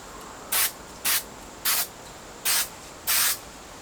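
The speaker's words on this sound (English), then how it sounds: "So we're going to spray along the spars." Five short, even bursts of spray hiss at a steady rhythm as coating goes onto the spars of a balsa model airplane frame, loud and close over quiet background.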